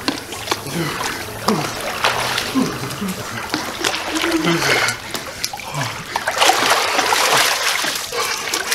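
Splashing and trickling in freezing water as someone dips into it, broken noisy bursts of sloshing close by throughout, with people talking and gasping over the water sounds.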